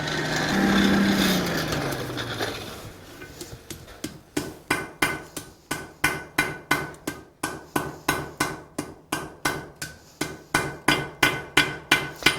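Steel fire poker being forged: after a brief roar, a hammer strikes the forge weld in a steady, evenly spaced run of about twenty sharp, ringing blows, close and loud.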